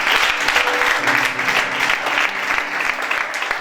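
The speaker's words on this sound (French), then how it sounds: "On acclame le Seigneur." A church congregation applauding the Lord fills the space with dense, continuous, loud clapping from many hands, a steady roar of applause with faint voices mixed in.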